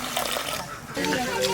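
Water poured into a pot for boiling lentils in a home kitchen, a brief splashing and trickling pour heard under close talking.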